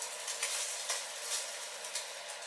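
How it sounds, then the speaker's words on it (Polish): Food frying in a pan, a bright continuous sizzle with soft periodic stirring scrapes, close and steady with no voices. "Dobra, to się smaży"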